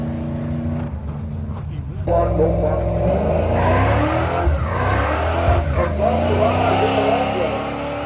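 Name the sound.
drag racing car revving accelerator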